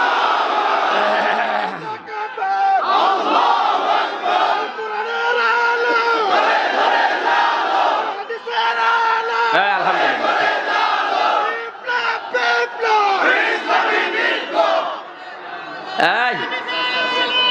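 A crowd at an Islamic religious sermon shouts the takbir chant in unison, loud and close, in repeated surging calls that rise and fall, with a few stray voices and a brief gap.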